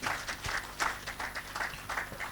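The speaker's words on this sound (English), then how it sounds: "Please, a round of applause for Mr. Kenneth." An audience at an insurance claims advocacy conference applauds steadily for about two seconds, a dense, even patter of many hands at moderate volume with no speech over it.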